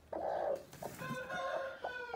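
A hen clucks nearby in a few short, throaty bursts, followed by a longer drawn-out cackling call; no other sounds.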